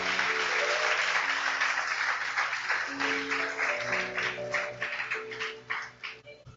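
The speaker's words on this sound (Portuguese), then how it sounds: "Você pode aplaudir o Senhor?" A church congregation claps steadily through a sermon, a dense sustained round of applause with music or tones held underneath, thinning into scattered claps near the end.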